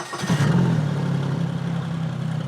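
A jet engine on an inflatable jet raft idles steadily on the water at night: a loud, constant mid-low drone that swells slightly in the first half second and then holds even, with no voices.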